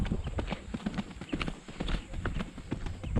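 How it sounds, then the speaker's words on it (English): Horse hooves clip-clopping in a quick, steady cantering rhythm on a bareback trail ride during a thunderstorm, close and fairly loud with a rushing outdoor background. "I want to canter up the other way"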